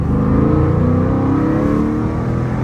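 Dodge Scat Pack with a loud, muffler-deleted exhaust drones steadily and close from inside the car during a night drive, a deep continuous rumble with no talking.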